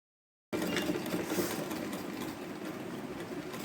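A sewing machine runs in a steady, close whirring burst, stitching along the border of a silk pattu pavadai skirt, starting abruptly after a short silence and continuing without speech.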